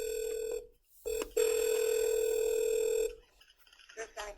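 A telephone line tone sounds during a 911 call transfer to the fire department: steady electronic ringing tones in two stretches, broken by a brief gap, then quieter line noise.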